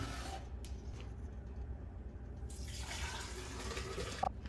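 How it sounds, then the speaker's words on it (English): A homemade liposomal vitamin C liquid is poured into a Vitamix blender container, making a steady, continuous splashing rush that stays fairly even throughout, close by and with no voices. "I'm going to pour it into the Vitamix containers"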